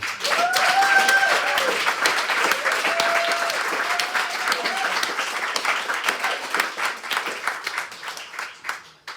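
A large crowd at a memorial event in Seattle claps steadily and loudly, the applause tapering off toward the end.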